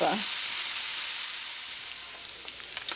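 Bacon renders and fries in a pan, giving a steady, close, crackling sizzle that holds throughout and is joined by a few sharper pops near the end.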